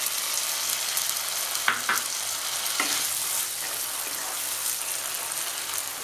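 Green peas sizzle steadily in a wok with yogurt, a continuous frying hiss broken by a few brief stirring clatters near the middle.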